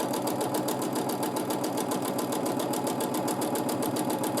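A sewing machine stitches matchstick quilting lines in a fast, even rhythmic chatter, steady and close throughout with no pauses or talking.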